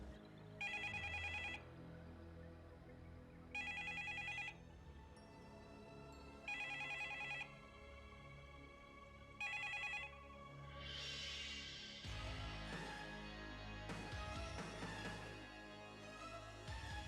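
A telephone rings in repeated bursts of about a second, spaced by pauses over a low background hum, and later a scuffle of louder rustling and movement sounds.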